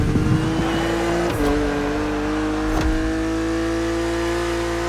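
A BMW Z4 E89 in The Crew Motorfest drones loudly with a steady engine note that dips and rises twice as the driver shifts or lifts off, with no voices over it.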